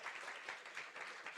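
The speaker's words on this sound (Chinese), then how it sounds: "那我们拍手欢迎他" Church congregation applauding to welcome a visiting missionary at a Sunday service: dense, even clapping, faint and distant, lasting the whole short stretch.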